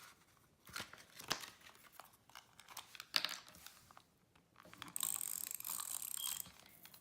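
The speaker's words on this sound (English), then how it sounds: "I'm going to take my tape runner and then I'm going to run it across the side." A tape runner is drawn along the edge of a paper template, giving short ratcheting, clicking mechanical bursts with brief sticky tearing sounds, close and quiet, separated by pauses.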